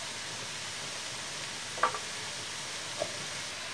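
Leeks sizzle gently in melted butter in a pan, a steady soft hiss with a couple of faint pops and crackles, quiet and close with no talking.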